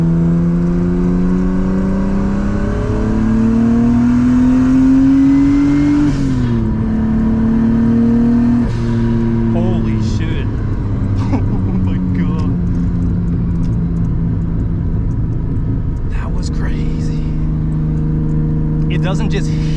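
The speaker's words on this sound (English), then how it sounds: "Damn, I got that crazy mechanical turbo noise." Nissan R32 Skyline turbo car pulls hard through the gears, engine note climbing and dropping with each shift, a whirring mechanical turbo whine layered over loud onboard engine noise while someone talks throughout.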